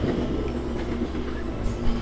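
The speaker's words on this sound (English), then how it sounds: "There goes a train." A train rumbles past near a castle ruin and its moat in Nagano Prefecture, Japan, a loud, continuous rolling drone with faint wheel clatter.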